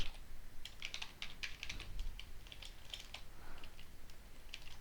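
A computer keyboard is typed on quietly in quick, uneven bursts of clicks while Python code for a simple calculator is written, with no voices heard.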